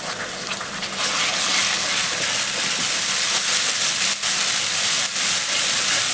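Poppy seed and green chili paste hits hot oil with onions in a pan, giving a loud, steady close hiss of frying that swells after the first second and continues throughout.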